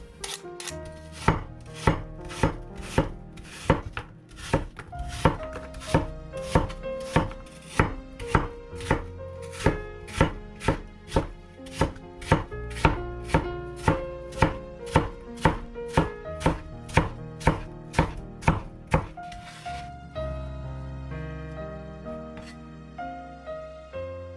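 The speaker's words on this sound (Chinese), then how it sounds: "一个苹果去皮以后，先切成片，再切成条，最后改刀切成丁" Knife chopping a peeled apple into cubes on a cutting board, a steady run of sharp, evenly spaced chops close up for most of the time, then a short stretch of lighter, quicker cutting at the end.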